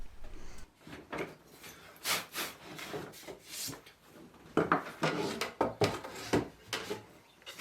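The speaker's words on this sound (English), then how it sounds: "I'll just use the chisel to square up the end for the board" Steel chisel paring across the end of a wooden board to square it up for a mailbox half lap joint, giving a run of scraping, rubbing strokes of varying loudness, close up with no voices.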